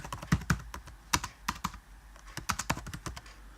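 Someone types code on a computer keyboard in a quick, uneven run of close, crisp key clicks with short pauses between bursts, heard alone with no talking.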